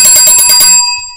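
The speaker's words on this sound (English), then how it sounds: "turn on the notification bell so you can hear a bell just like this one" A bright bicycle-style bell rings loudly in a rapid burst of several strikes, then its metallic tone rings out and fades alone.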